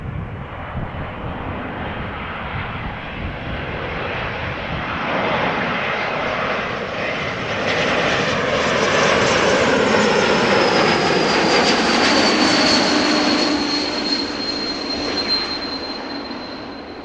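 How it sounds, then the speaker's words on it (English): A Swiss Airbus A220 jet arriving from Zurich at Amsterdam Schiphol roars past, its broad engine rumble building and peaking midway with a whining tone that slides down in pitch as it passes, then eases slightly. "this is a Swiss Airbus A220 arriving from Zurich"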